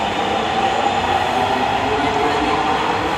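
A metro train pulls out of a station platform, a steady loud rumble of wheels and carriage noise with a faint squeal, continuous and close throughout.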